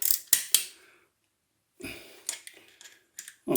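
Socket wrench turning bolts on a Honda VFR800 stator makes close, sharp ratcheting clicks and metallic creaks in short separate bursts with quiet pauses between them.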